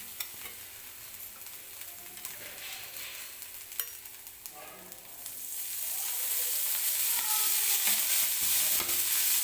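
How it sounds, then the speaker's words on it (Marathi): Sweet corn kernels roast in oil in a wok, a quiet steady sizzle with scattered crackles and stirring scrapes that swells louder and fuller after about six seconds, with no voices. "तेल टाकून 1-2 मिनटं परत आपल्याला व्यवस्थित कणीस भाजून घ्यायचे आहेत."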